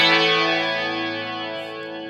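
One electric guitar phrase rings out through a Dimension C chorus unit, a bright, shimmering sustained chord that slowly fades over about two seconds, played alone and close.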